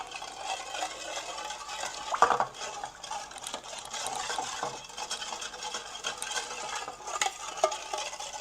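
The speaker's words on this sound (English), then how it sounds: "Then you mix everything together." A barbecue sauce mixture with browning and sugar is stirred in a bowl or pot, a soft steady scraping and swishing with an occasional clink of the utensil, alone with no talk.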